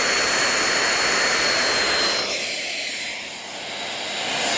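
Shark PowerDetect IP1251 cordless stick vacuum running with a loud high-pitched whine and airy rush, the tone shifting and dipping briefly near the end.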